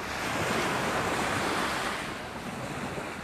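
Waves wash onto a beach during an evening walk, a steady broadband rush of surf with some wind noise, continuous and fairly close, with no voices.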